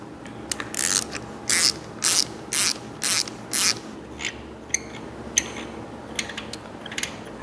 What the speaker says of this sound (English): So I'm gonna get my ratchet over here. Make sure that bottoms out.